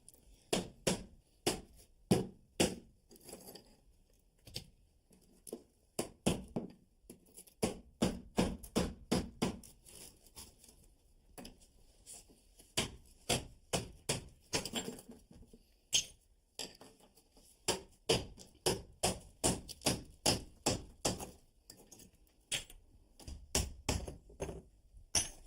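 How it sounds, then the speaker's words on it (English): Hammer blows drive a cold chisel into a hearth tile and its mortar bed, a rapid, irregular series of sharp metallic taps and chips, close up and fairly loud, with brief pauses between bursts. "to remove the tile, I'm going to use a cold chisel and a hammer again"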